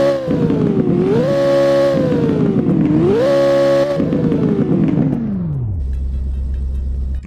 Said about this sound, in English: here's a startup and an idle, including a rev